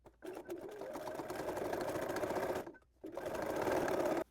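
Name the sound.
sewing machine top stitching binding on quilted tote bag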